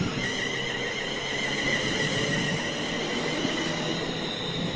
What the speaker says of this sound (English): I get off at Watford Junction and the train left on time